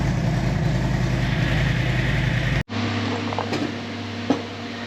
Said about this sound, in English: I'm gonna fire the bike up and let it heat up again